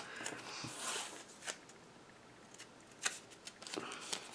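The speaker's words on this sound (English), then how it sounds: "I'm going to cut this sliver of pink off of this as best I can." Scissors snip a sliver off a piece of pink card, soft crisp cutting sounds and paper rustles, quiet and close, in irregular short bursts.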